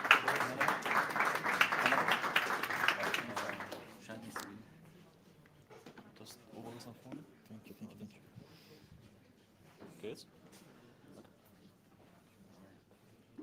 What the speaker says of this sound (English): All right, everyone, warm round of applause for Triper.